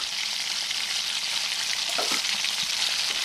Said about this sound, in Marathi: मंद गॅसवरच आपण हे सगळं छानपैकी परतून घ्यायचं आहे.